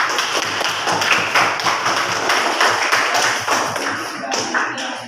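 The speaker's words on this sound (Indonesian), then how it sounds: "Tepuk tangan dulu untuk" A classroom of students claps for an answer during a teaching practice lesson, uneven crisp hand claps continuing for several seconds.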